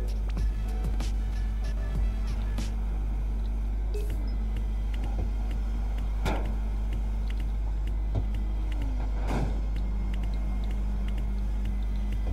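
A Lotus sports car engine in the racing game Test Drive Unlimited gives a steady, loud, droning roar that holds throughout, with a few brief sharper spikes over the hum.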